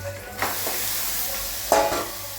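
Mutton for biryani added to a pot in an electric rice cooker and stirred: a steady sizzle broken by two sharp scraping clatters of a spoon against the pot, close and without talk.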